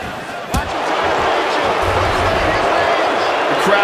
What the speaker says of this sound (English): The crowd is really booing hard here, Mike.